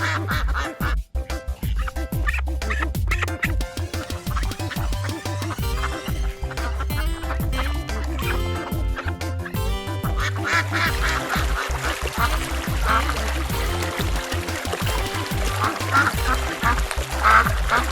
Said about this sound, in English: Exactly, that's the duck.